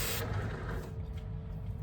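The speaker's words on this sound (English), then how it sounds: "I'm just gonna go ahead and spray it with some Tresemmé" A short, loud hiss from a Tresemmé hairspray can bursts briefly onto a wig, then fades into quiet background noise.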